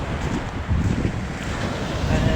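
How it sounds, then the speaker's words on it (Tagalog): Strong wind and waves at sea heard from a small fishing boat: a dense, continuous roar of wind buffeting and surf wash, loud and close, with no pauses. "uwi na tayo, malakas na yung hangin"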